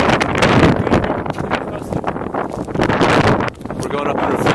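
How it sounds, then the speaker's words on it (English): Strong gusts of wind blasting across an exposed rooftop, loud rumbling buffeting against the microphone throughout, with excited voices talking over it. "So windy."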